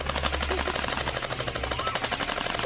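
Toy guns fire at a rural fairground shooting stall, giving a dense, steady stream of rapid popping shots. A low hum and crowd noise sit underneath, with no clear speech.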